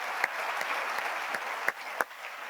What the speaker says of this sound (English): round of applause for our public officials.